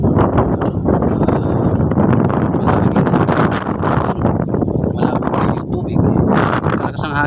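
Strong wind buffets the microphone in loud, rumbling gusts by a statue in a riverside park in the afternoon, with voices talking underneath throughout.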